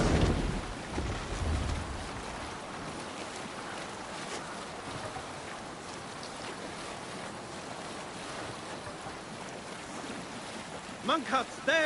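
A Viking longship sails the sea in Assassin's Creed Valhalla, with continuous wind and rushing water from waves washing against the hull. The level stays moderate throughout, and a brief louder splash comes near the end.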